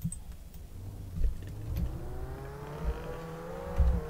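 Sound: ATV engine in Roblox Jailbreak video game

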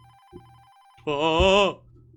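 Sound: phone ringing in the video game Don't Chat With Strangers

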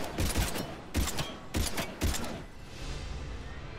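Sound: pistol gunfire in the video game Mass Effect 3

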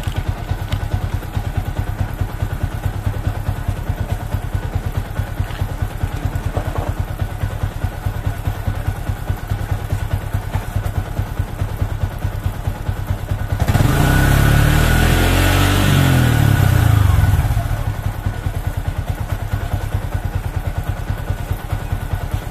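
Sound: Yamaha Vixion motorcycle engine running and revving

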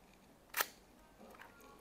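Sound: vintage rangefinder camera shutter firing

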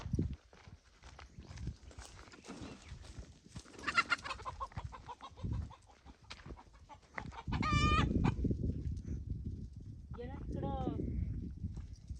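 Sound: rooster

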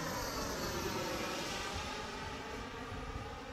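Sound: Mini Avanti model jet turbine engine throttling

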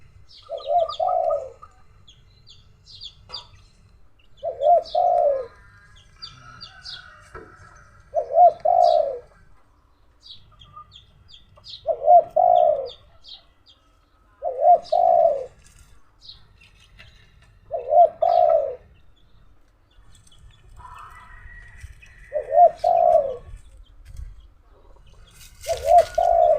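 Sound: dove cooing

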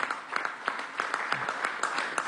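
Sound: applause

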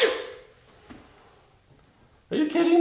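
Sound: a person sneezing over a chuck roast

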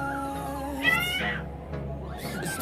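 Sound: cat meowing in Sakura School Simulator video game

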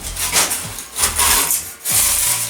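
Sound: Yato YT-82190 hot knife cutting extruded polystyrene foam

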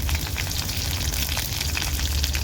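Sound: green chillies added to garlic frying in hot oil

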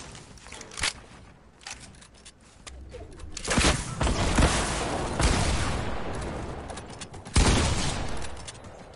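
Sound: rocket launcher firing in Fortnite video game

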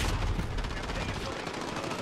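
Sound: SMG gunfire in video game Call of Duty Modern Warfare

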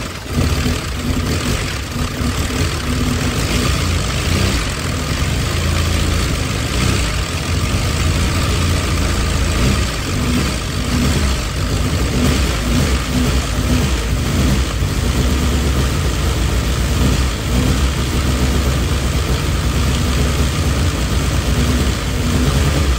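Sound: Nissan KA24DET engine running on first startup

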